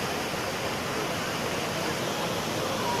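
Floodwater rushes through a street in heavy rain, a loud, continuous broadband roar of flowing water without a break, close by and with no one talking.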